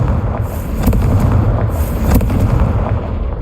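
A Confringo blasting spell exploding in Hogwarts Legacy, a loud, rumbling burst with crackling pops layered over steady game ambience.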